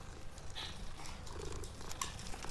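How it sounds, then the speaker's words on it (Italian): A cat purring as it is petted in the video game Hogwarts Legacy, a soft, quiet, continuous rumbling purr with faint game ambience and no talking. "ho accarezzato il gatto"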